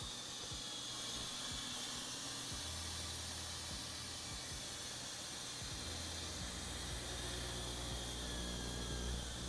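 Steam hisses steadily from a pot of black beans being cooked for loaded nachos, a loud continuous broadband rush with low droning tones underneath, constant throughout.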